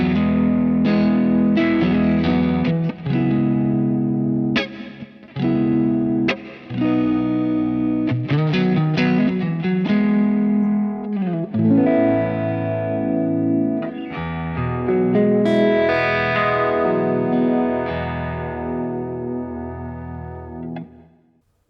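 An electric guitar through a TC Electronic Plethora X3 pedal plays chords and single notes with shimmering vibe modulation, echoing delay repeats and a wash of reverb, loud and continuous with brief pauses between phrases.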